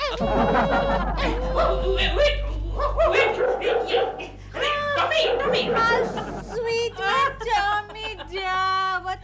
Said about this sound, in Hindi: ओए, किसकी आवाज आ रही है? सपना का कुत्ता।